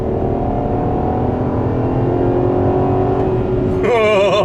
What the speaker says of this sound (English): Listen to that VR6.